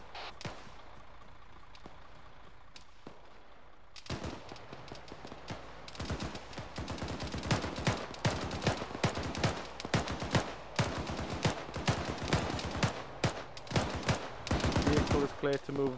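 Arma 3 firefight gunfire. Quiet background comes first, then from about four seconds a loud burst of rapid rifle and machine-gun shots cracks again and again, close and far overlapping, densest near the end.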